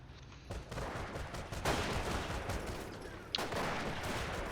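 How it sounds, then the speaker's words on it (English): Machine gun fire in the Company of Heroes real-time strategy game, dense continuous gunfire and battle noise throughout with a couple of sharper bursts, loud and constant. "Another machine gun here."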